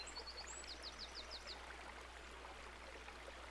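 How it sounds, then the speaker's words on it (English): A gentle stream flows over rocks, its soft steady trickle and burble continuous throughout, with a few faint bird chirps near the start. "And the water flows over the rocks gently,"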